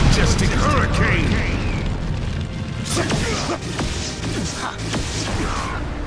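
Fire Style Majestic Hurricane attack in Naruto Shippuden, a loud roaring blast with crackling bursts and whooshes that rumbles on for several seconds, with shouted character voices over it.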